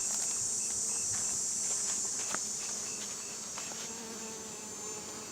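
Honey bees buzz steadily around an open hive during a winter-readiness inspection, a dense close hum with faint clicks and handling sounds beneath.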